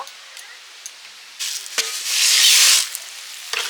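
Mustard oil sizzling in a pan while pumpkin ghonto is cooked, a soft hiss that swells into a louder sizzle midway, with a few light clicks and taps nearby.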